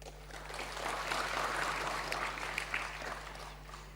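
Legislators in a Rajasthan assembly hall thump their desks in place of clapping, a dense, steady patter of many hands spread across the room, sustained for several seconds over a constant low electrical hum.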